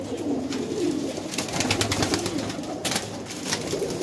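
Highflyer pigeons coo softly and repeatedly at close range, their low throaty calls running continuously over a faint background hiss.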